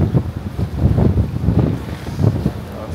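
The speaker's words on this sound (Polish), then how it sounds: "Ale tutaj wieje, no tutaj." Wind gusts buffet the microphone at a seaside spot on Pattaya's ocean drive in Thailand, a loud low rumble that rises and falls in uneven bursts with no voices.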